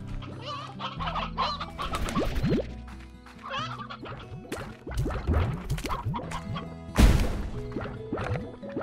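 Chickens clucking in the Slime Rancher video game, repeated clucks and squawks mixed with busy game sound effects and thuds, with one loud crash near the end.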